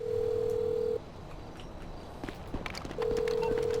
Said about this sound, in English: A modder then makes my game have this constant annoying phone ringing sound.